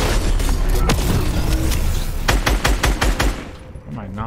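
Rapid assault rifle fire in Fortnite during a 2021 Halloween update match, a dense burst of loud shots followed by a quick run of evenly spaced cracks that trail off, set against busy game sound.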